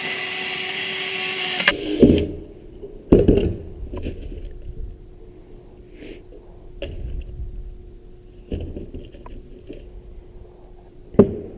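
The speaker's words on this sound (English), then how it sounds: "let's go ahead and put the first rivet in this section" Rivets being set into a sheet metal duct section during square-to-round assembly, giving a few sharp, separate metallic snaps and clicks spaced over several seconds against a quiet background hum.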